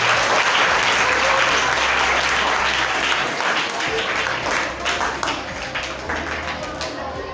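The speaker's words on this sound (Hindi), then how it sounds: "Please put your hands together" Dense applause from a school audience at a tree-planting ceremony, steady and loud throughout, with voices faintly mixed in beneath the clapping.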